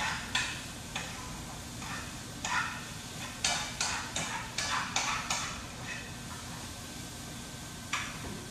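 Stir fry sizzling in a pan with a steady frying hiss, broken by repeated sharp clatters of stirring at irregular intervals, heard close and fairly quiet.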